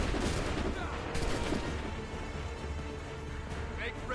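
Musket volley gunfire in Assassin's Creed, a burst of crackling shots up front that thins into scattered pops over ongoing battle noise.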